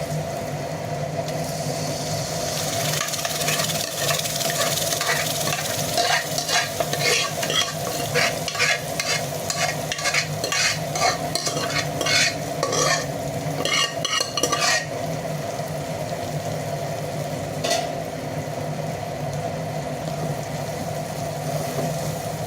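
Pav bhaji gravy goes into a hot pan and is stirred into the vegetables, a steady close sizzle with a fast run of rhythmic spatula scrapes and clinks through the middle, then fading back to frying.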